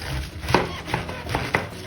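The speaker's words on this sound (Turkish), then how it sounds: "Şimdi burada lahanamızı olduğunca şöyle ince doğramamız gerekiyor." A knife chops cabbage finely on a cutting board for coleslaw, with about four or five crisp, evenly spaced strokes close by and no talking.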